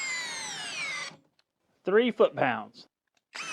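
A fully charged Hyper Tough brushless impact driver running in high speed: a loud whirring motor that winds down and stops, a person speaks briefly, then the motor starts whirring again near the end.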